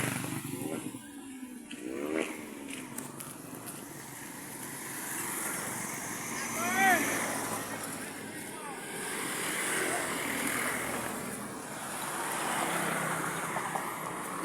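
Road traffic passes near the sea, with a continuous wash of engine and tyre noise, a brief horn-like tone, and intermittent talking over it.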